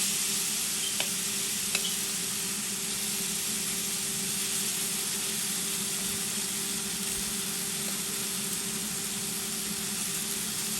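Tandoori salmon slices sizzle in an oiled grill pan, giving a constant, close, even hiss of frying that lasts throughout, with a couple of faint clicks near the start.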